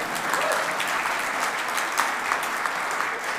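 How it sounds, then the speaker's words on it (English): Church congregation applauding a pianist and page turner at a festival hymn service, a steady sustained round of clapping with a few sharper individual claps standing out, no speech. "We can give them another round of applause."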